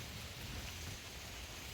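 Steady rain falls continuously, a dense even hiss with a low rumble underneath and no voices.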